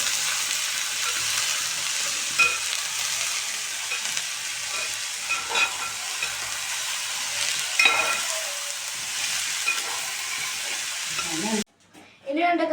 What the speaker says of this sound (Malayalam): ഇനി ഉള്ളി നമുക്ക് വറുത്തെടുക്കാം